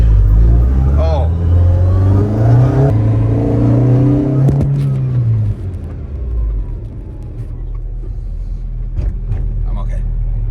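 A Super Cooper pickup truck with a Honda D16Y8 VTEC engine accelerates close by, its rising engine note climbing through the gears before easing off, with people talking over it.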